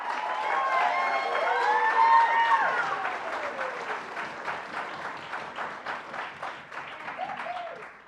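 A crowd at a congressional candidate forum applauding and cheering, loud clapping with whoops and shouts that swell, then fade into scattered claps.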